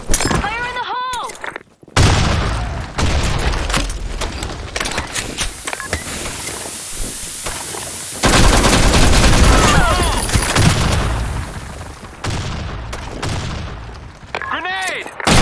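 Grenade explosion and gunfire in the shooter game Broken City: a loud burst followed by sustained rapid weapon fire and booms, with short shouted game voice callouts between bursts.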